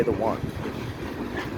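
A Norfolk Southern freight train passes over the Delair Bridge with a steady low rumble and rolling rail noise, heard from nearby under a brief spoken phrase and some wind.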